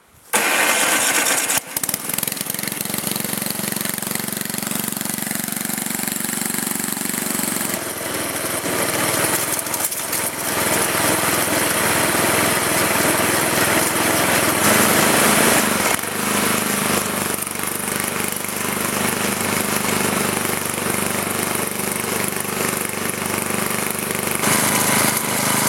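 An electric-start snowblower engine cranks and catches, then runs on at a loud, steady, buzzy roar close by, its load changing slightly as it works, no voices.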